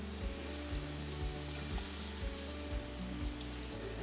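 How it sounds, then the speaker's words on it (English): White wine hitting a hot pot of coated vegetables for a fish and shrimp courtbouillon, a loud, dense, continuous sizzle up close with a low rhythmic thumping beneath. "Now the wine's going to start deglazing the bottom of the pot."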